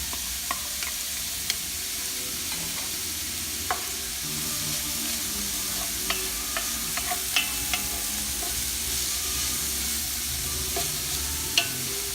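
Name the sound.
garlic, onions and ginger frying in a pan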